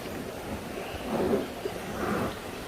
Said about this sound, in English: It's thunderstorming and raining.